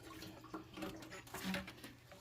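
Coolant trickling and splashing out of a loosened radiator hose on a Dodge/Chrysler car, a steady faint wet patter and gurgle with no voices.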